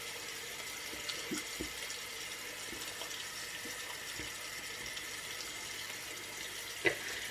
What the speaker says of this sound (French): là je laisse couler l'eau, mais j'ai mes mains pleines de machin